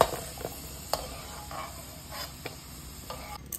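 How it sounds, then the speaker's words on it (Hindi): Garlic frying in the same hot oil used for onions, a soft continuous sizzle under scattered stirring clicks and scrapes of a utensil in the pan, close and fairly quiet. "सेम ऑयल में अभी मैं फ्राई करूंगी लहसुन"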